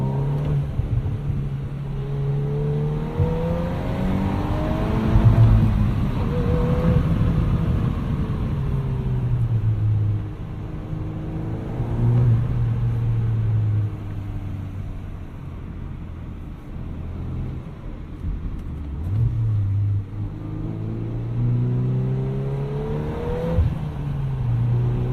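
A 2022 Volkswagen Golf R with a six-speed manual accelerates in race mode, heard from inside the cabin as a loud engine drone that rises through the revs, drops at each gear change and climbs again, over a steady road rumble.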